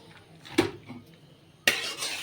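A hot metal wok (kadai) is handled on a stove, giving two distinct metallic knocks about a second apart, the second followed by a brief lingering rattle, with no talking.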